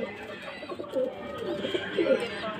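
Teddy and Lakha breed pigeons on a stand in Lahore cooing, with soft, repeated throaty coos rising and falling over a steady background murmur.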